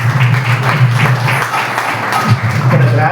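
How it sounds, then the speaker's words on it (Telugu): An audience at a Bible college graduation ceremony applauds, with dense, close clapping running throughout alongside some voices. "సో వీళ్ళందరికీ మనం గట్టిగా చప్పట్లు కొడదాం"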